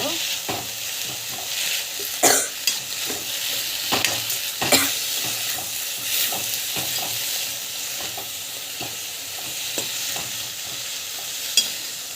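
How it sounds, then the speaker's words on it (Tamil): Coriander and mint leaves sautéing in a pan with a little oil, a steady soft sizzle broken by occasional scrapes and clicks of a stirring spoon, close and moderately loud with no talking. "கொத்தமல்லி புதினா நல்லா வந்து வதக்கிட்டு"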